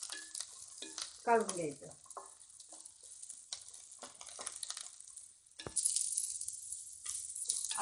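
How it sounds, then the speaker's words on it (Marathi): Grated coconut roasting with browned onion in a pan, heard as faint scraping stir strokes and a soft dry sizzle that grows louder near the end, with brief speech over it. "हा कांदा लालसर झालेला आहे। त्याच्यामध्ये आपण आता भाजायला खोबरं टाकूया।"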